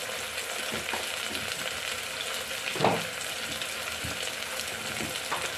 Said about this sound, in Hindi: इसको थोड़ा देर फ्राई कर लेंगे और 5 मिनट तक फ्राई करना है सब्जी